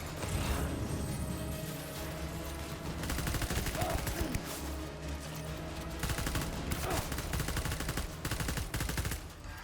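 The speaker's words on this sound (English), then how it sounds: "Ah, non-lethal assault rifle." Rapid bursts from a non-lethal assault rifle in Death Stranding, a dense mechanical rattle of shots under game noise, with a voice speaking briefly.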